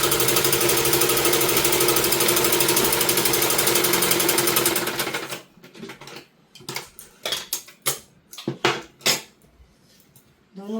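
A sewing machine stitches a sleeve onto a simple suit, running as a loud steady mechanical drone for about five seconds, then stopping and giving way to scattered clicks and handling knocks.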